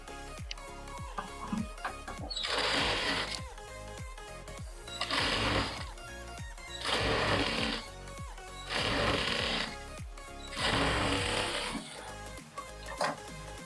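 Sewing machine stitching a strip onto a blouse, heard as four or five even bursts of loud whirring separated by short gaps, over a steady background with faint rhythmic tones; no voices.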